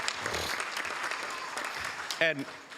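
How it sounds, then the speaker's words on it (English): A crowd at a city council meeting claps in a round of applause, moderately loud and continuous, with a voice breaking in briefly near the end. "Can we give them a big round of applause?"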